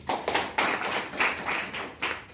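A congregation claps hands during a Hindi-language church service, a dense run of brisk, fairly loud claps with a few sharper accents and no talking.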